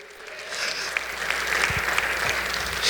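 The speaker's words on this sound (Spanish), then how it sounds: "Si tiene mano, denle un aplauso fuerte al Señor." A church congregation applauds strongly during a Spanish-language worship service, a dense, sustained clapping that builds over several seconds and fills the room with no voices.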